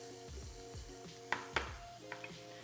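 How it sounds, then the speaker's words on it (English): Onions softening in a pan with a low sizzle, stirred with a few sharp scrapes and knocks of the utensil against the pan, close and moderately quiet, no talking. "we'll just let our onions kind of give that a stir"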